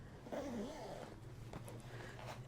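A zipper being pulled on a PGYTech OneMo Lite 22L camera bag, a short close raspy zip lasting about a second, quiet and alone.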